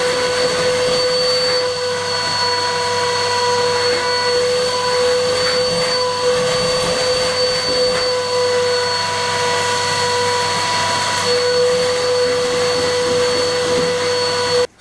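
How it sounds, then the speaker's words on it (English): A vacuum cleaner cleans a newly laid stone floor in a Spanish farmhouse with a loud, steady whine and roar close by, holding constant until it cuts off at the end. No one speaks. "So I've just vacuumed it all."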